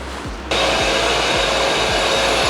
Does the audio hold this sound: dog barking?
no